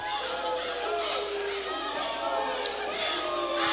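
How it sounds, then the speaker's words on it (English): Basketball crowd in a college gym roaring and yelling to distract a free-throw shooter at a men's game, a dense continuous wall of cheering voices that holds loud throughout. "Crowd in here trying to make some noise to distract Galloway."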